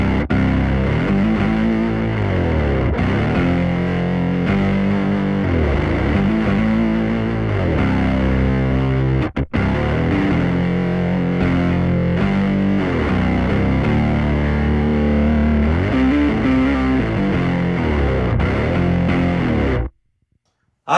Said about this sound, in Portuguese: Mas esse aqui é o som do meu Microsynth